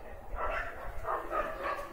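Several short, muffled dog barks and yips come at a moderate distance in a rough rhythm over about two seconds, with faint background voices.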